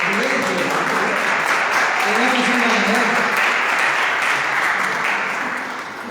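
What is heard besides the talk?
audience applause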